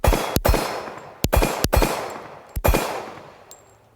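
Springfield Armory 1911 TRP .45 pistol firing at an event range, about six sharp close gunshots in uneven pairs with short ringing decay between them, no talk.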